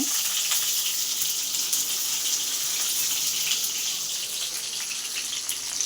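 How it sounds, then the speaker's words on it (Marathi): Stuffed brinjals fry in very hot oil, a loud continuous hissing sizzle that holds steady throughout with small crackles on top. "हे बघा, छान कडकडीत तेल गरम केलं आहे आणि आता वांगी तेलात परतून घ्यायची"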